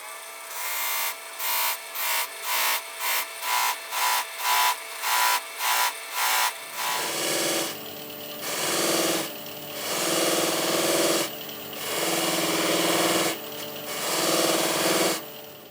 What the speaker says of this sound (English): So I'm just going to buff these up.